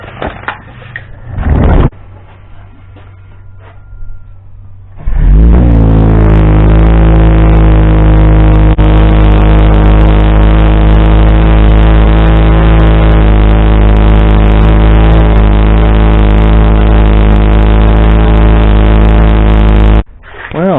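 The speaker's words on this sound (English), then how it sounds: "We're going to let you hear the new exhaust." A Jeep Wrangler with an aftermarket exhaust gives a loud, steady engine drone with a deep rumbling exhaust, holding for about fifteen seconds after a brief start-up, heard alone.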